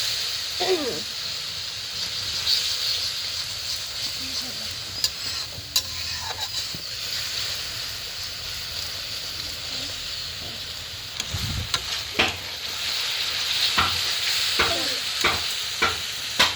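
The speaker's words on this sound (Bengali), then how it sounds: "একটু কষাবো।" Masala and paneer sautéing in oil in a pan, with cauliflower and potato to go in, a steady sizzle carrying scraping stirs and clinks throughout, louder toward the end.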